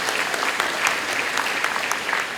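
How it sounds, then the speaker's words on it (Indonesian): Dense, continuous applause from parents fills the hall at the class XXIV farewell and graduation ceremony of SMA Pangudi Luhur 2 Servasius in Bekasi, after a top academic award is announced. Many hands clap steadily and fairly loudly throughout. "Tepuk tangan Bapak Ibu."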